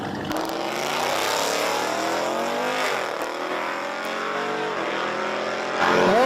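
A Jeep Trackhawk drag races a small SUV with stock exhaust at a drag strip: loud engines roar and rise in pitch through the gears, then fade as the pair pulls away down the track.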